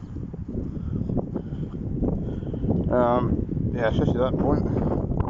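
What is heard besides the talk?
wind during a light sandstorm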